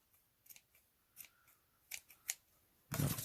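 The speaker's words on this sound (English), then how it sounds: "Scissors are dull, guys." Dull scissors snipping through a craft piece stuck with wet tacky glue, several quiet, close, uneven cuts followed by a louder rustle of handling at the end.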